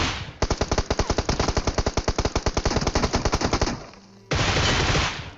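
Rapid automatic gunfire in the battle royale game PUBG, a long sustained burst of evenly spaced loud shots, a brief pause, then a dense continuous roar of further fire.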